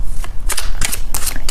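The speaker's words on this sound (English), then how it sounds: "I am shuffling the cards and asking the angels to give us a specific answer" Tarot cards are shuffled by hand in quick riffling bursts, several crisp papery flurries close to the microphone with no talk over them.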